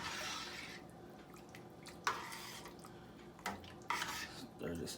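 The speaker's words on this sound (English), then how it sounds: "Now we're gonna get some real stirring in." A spoon stirs a pot of chicken and sausage gumbo with several scraping clinks against the pot, soft and close, among quieter swishing and a faint voice in the background.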